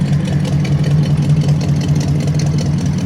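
A 1975 Ford F100 with a 302 V8 and Cherry Bomb true dual exhaust idles steadily, a loud, close, continuous low rumble with no talking.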